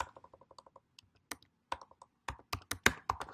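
Rapid keystrokes on a computer keyboard while entering a git commit message, quick bursts of clicks with short pauses and a few louder taps, close and clear with no talking.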